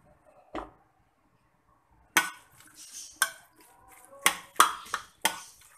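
Spoon clacks against a bowl as dahi bhalle ingredients are mixed with yogurt, several sharp clinks and scrapes in an irregular rhythm, fairly close, with a quiet stretch before they start.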